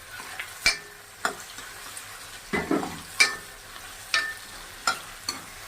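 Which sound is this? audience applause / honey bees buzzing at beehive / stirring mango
stirring mango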